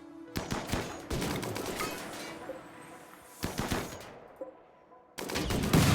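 Turrets come under gunfire in the video game RimWorld, with bursts of rapid automatic shots broken by short pauses, and the firing resumes in a louder, denser burst at the end.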